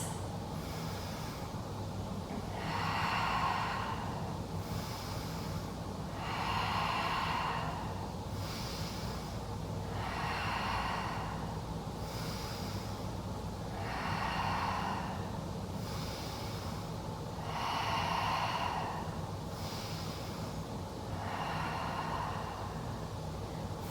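Slow, deep breaths during a yoga flow, five long inhale-exhale cycles repeating every four seconds or so, close and steady over a low hum with no talking.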